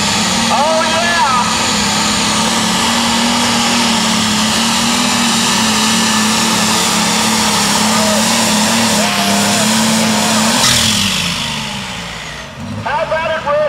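A light limited super stock pulling tractor roars steadily at full power during a tractor pull in Danville, Kentucky, loud and close for most of the run before easing off and fading near the end, with an announcer talking over it.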